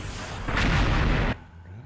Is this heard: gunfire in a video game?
yes